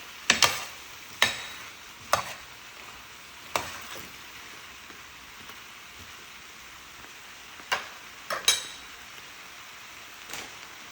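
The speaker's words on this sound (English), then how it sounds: "Let's mix it a bit." A utensil stirs a vegan curry in a pan, sending sharp scraping clinks at irregular intervals over a faint, steady sizzle.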